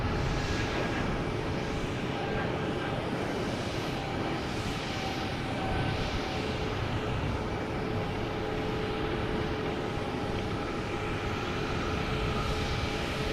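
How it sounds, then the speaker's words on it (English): A JetBlue Airbus A220 airliner takes off from Boston Logan, its engine roar a steady, broad rumble that holds loud and constant throughout, somewhat distant with no talk. "Here's JetBlue heading to Reagan in A220."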